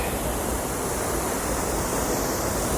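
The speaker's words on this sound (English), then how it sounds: "overtopping the locks, essentially like a small river" Floodwater overtopping canal lock gates on the Buckby flight like a small river, a constant loud broadband rushing roar, close and unbroken, with no talk.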